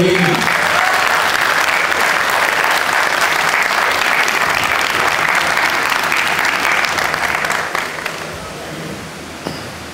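Sustained loud applause from a mushaira poetry audience in Faisalabad greeting poet Anjum Saleemi, dense clapping that holds steady for most of the stretch before tapering off near the end.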